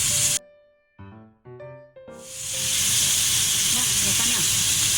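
A keto beef burger patty of ground beef fries in a pan, a loud steady sizzling hiss that swells after brief quiet gaps and then holds dense and continuous.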